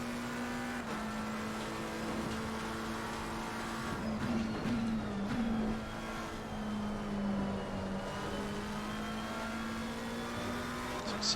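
McLaren 720S GT race car engine in Assetto Corsa Competizione, a sustained steady drone at high revs with brief pitch wobbles around midway, heard alone and fairly close throughout.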